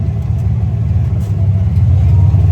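A 1946 Willys CJ2A jeep idling and given a little gas, a loud, steady low engine rumble close by that swells slightly toward the end.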